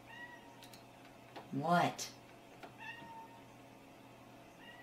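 A pet cat lets out one clear, drawn-out meow close by in a quiet room, with a few faint voice sounds around it.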